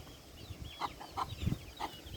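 Several chickens cluck in short, scattered calls over a low outdoor background on a vegetable farm, with no talking.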